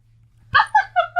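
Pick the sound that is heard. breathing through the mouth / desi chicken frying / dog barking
dog barking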